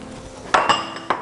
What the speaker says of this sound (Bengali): আমি আলু দিচ্ছি 1/2 কাপের মতো